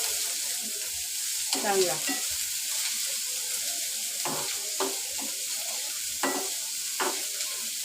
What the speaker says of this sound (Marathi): आता ना व्यवस्थित भाजून घ्यायचा